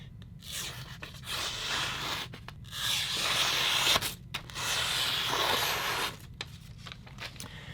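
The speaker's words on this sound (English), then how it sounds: "Just a little more stropping and a little more ceramic rod" A Shan Zu Rhino knife edge is stropped and touched up on a ceramic rod, producing quiet, close, repeated rasping strokes separated by short pauses.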